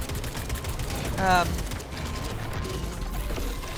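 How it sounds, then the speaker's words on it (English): Rifle fire with shot cartridges in the video game Atomic Heart. Mechanical, rattling bursts sit within a dense wash of game noise, and a brief whining tone rises in the middle. "Using the rifle and the shot cartridge is pretty effective."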